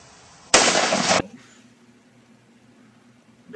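A single handgun shot rings out, a loud, sharp broadband blast lasting under a second, followed by a faint low hum and quiet background.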